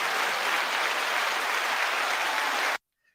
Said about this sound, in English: You didn't know you were getting applause